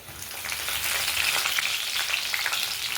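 A few broken dried red chillies fry in hot oil for Andhra chilli thokku, giving a continuous crackling sizzle with fine popping, moderately loud and close, with no voices over it.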